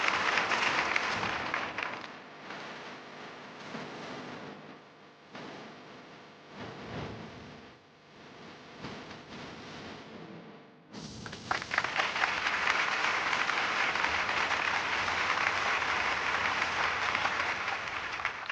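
Sustained audience applause at an award ceremony in a TV serial scene, loud and dense throughout, dipping briefly midway before swelling back to full strength.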